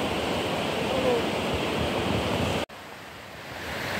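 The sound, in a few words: clear water flowing through Jahanam Dareh Si valley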